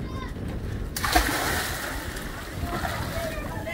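Someone jumping into the deep Indian Ocean, a sharp splash about a second in followed by sloshing water and surf, with voices talking nearby.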